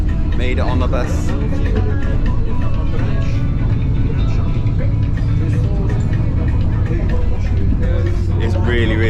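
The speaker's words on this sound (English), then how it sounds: "Made it on the bus." Ride aboard a crowded public bus in Tahiti, with a steady loud engine rumble and road noise running throughout while passengers' voices chatter close by over the drone.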